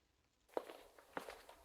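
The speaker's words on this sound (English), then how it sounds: "I hear the sound of footsteps behind me." Footsteps approach from behind in the video game Cursed Lands: after a brief hush, a few soft, distinct steps land in an uneven rhythm, faint and close, with no talk.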